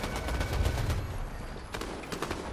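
Rapid bursts of nearby automatic gunfire in a Fortnite match, dense crackling shots in the first second, then a pause and another shorter flurry, loud and close.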